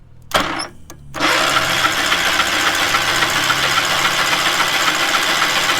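A small engine on a man lift is cranked at close range. It gives a brief sputter and a short pause, then catches into a loud, steady, rough running roar.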